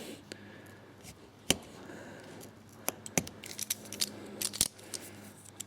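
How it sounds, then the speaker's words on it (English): Cutting tool snipping and scraping copper off a 5.8 GHz video transmitter board during an SMA connector repair, with several sharp close clicks and snaps spread over quieter handling noise. "so I'll just come in and try to cut the copper off that"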